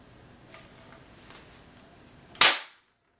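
A Hyper Pet K9 Kannon ball launcher fires once with a single sharp, loud snap, stretched elastic bands releasing after a few faint handling clicks.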